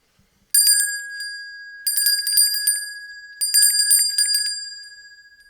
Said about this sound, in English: The sweet, high tones of a bell rang throughout the amphitheater.